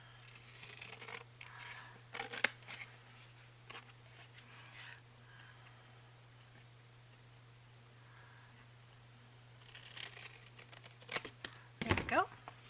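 Scissors or a craft blade cutting through the thick chipboard cover of a Little Golden Book during a journal build, a run of close crisp snips and rasps at the start and again near the end, with a quiet pause between.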